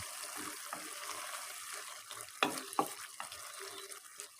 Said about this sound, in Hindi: इसमें डालेंगे सूखा धनिया, ज़ीरा और काली मिर्च का पाउडर और अच्छी तरह मिक्स करेंगे